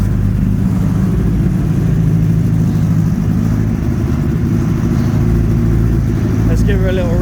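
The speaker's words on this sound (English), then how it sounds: "Let me see if I can get her started. I had it warm earlier, so let's see, it should start up, hopefully." A drift-built kei truck with a swapped motorcycle engine idles loudly and steadily close by, its rough engine drone running throughout with a brief higher whine near the end.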